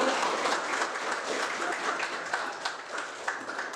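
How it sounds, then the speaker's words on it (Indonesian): A class of university students applauding in a classroom, with dense, steady clapping from a small group close by that carries on without a break for the whole stretch. "beri aplaus untuk"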